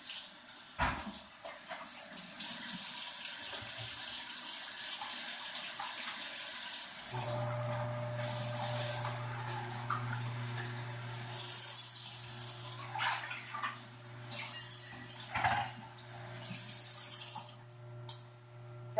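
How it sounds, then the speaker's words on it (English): A kitchen tap runs steadily while hands are washed under it, a continuous near hiss of flowing water with splashing changes, lasting the whole stretch without talk. "So, wash my hands."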